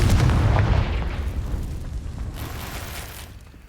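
A Confringo fire spell blasts in Hogwarts Legacy, a loud booming explosion that starts strong and rolls off into a long rumbling tail, with no talking over it.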